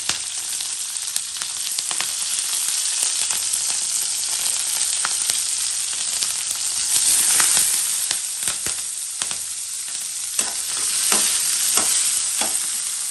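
Chopped green chilies drop into hot oil already crackling with cumin seeds, and a loud, continuous sizzle follows, with sharp pops and spatters scattered through it. No one speaks.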